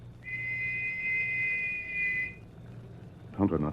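A single clear, high-pitched whistle sounds steadily for about two seconds over a faint low hum, and a voice briefly speaks just after it.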